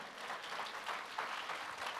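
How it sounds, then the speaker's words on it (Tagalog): A church congregation applauds the Lord during a sermon, a continuous, moderately loud patter of many hands clapping that carries through the whole stretch without talk. "malakas na amen kay Lord at palakpak sa Panginoon"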